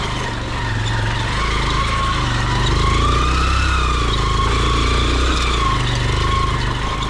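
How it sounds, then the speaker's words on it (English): A vehicle engine drones loud and close while driving down a rough, broken road under repair, a steady rumbling hum with slight swells and shaking, no voices. "can even hear, guys, the engine, how the engine is making noise."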